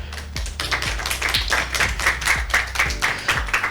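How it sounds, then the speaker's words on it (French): Audience of seventh-grade students applauding the hosts of a school show, a close, sharp clatter of hand claps that keeps up steadily throughout. "Nous les accueillons et nous les applaudissons."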